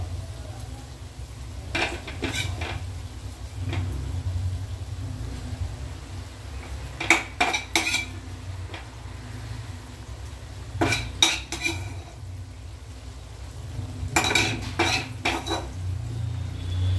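Fried vegetables being added one by one and stirred into rice for mixed fried rice, a metal spoon clinking and scraping against the pan in several short bursts over a low steady hum, with no talking.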